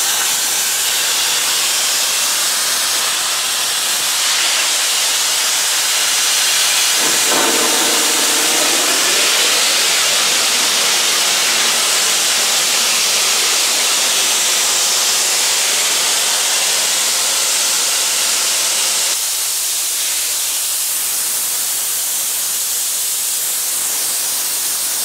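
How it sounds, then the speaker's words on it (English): Steam blowing off from the boiler of a 1909 Stanley Steamer car, a loud continuous roaring hiss held steady for about twenty seconds, then dropping to a quieter hiss near the end. "That's how you clean out your boiler."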